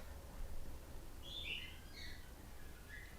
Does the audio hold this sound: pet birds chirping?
yes